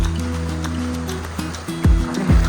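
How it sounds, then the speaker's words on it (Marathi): Bahirkund, a hidden waterfall in Maharashtra, pours in a steady, close rush of falling water, with a couple of low thuds near the end. "हा हिडन वॉटरफॉल आहे आणि इथं पण एक छोटासा वॉटरफॉल आहे"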